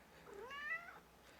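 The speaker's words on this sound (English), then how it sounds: "Sorry about the cat." A cat gives one drawn-out meow, rising then falling, at close range over a quiet room.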